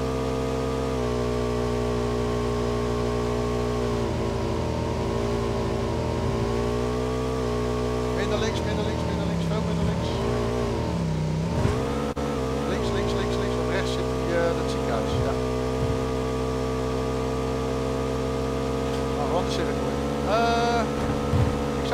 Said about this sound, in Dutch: Leuk zo'n motor. Die motor is echt waardeloos.